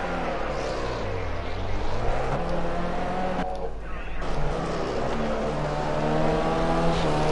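Race car engines in a PS4 racing game during a tyre-warming lap, a continuous high engine whine rising and falling with the throttle, loud and steady, with commentary spoken over it.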